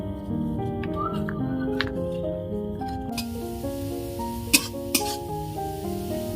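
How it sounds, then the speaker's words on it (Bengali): Potatoes and carrots sizzle steadily in hot oil in a pan, a constant close frying hiss with background tones underneath and a couple of brief clinks or pops near the end. "তেলটা গরম হয়ে গেছে, এখন দিয়ে দেবো আলু আর গাজরটা"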